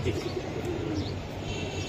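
A racing pigeon, a club-raced bird offered for sale, coos in soft repeated low calls close by, layered over a steady background hum with no talking.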